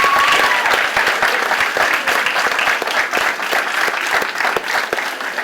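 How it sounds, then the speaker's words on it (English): Sustained audience applause for junior high students after a school winter concert, steady dense clapping filling a hall for several seconds. "Let's give all these students another round of applause for the great job they've done tonight."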